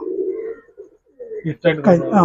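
A pigeon coos softly and close up in low, rolling tones, and a person starts talking right after.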